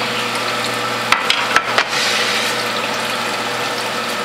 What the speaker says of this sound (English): And pour that juice in there.